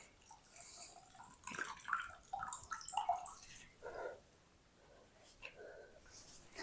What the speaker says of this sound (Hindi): ये देखिए इस तरीके आपने सारा पानी इसका निकाल देना है।